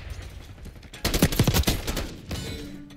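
Automatic gunfire in Call of Duty Black Ops 6 during a Hardpoint match, a rapid loud burst of shots lasting over a second, close and dominant, tailing off with game sounds afterward.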